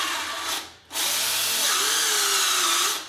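Cordless 18-volt battery drill in a workshop, running at a loud steady whine, briefly cutting out and then spinning up again with a slowly shifting pitch.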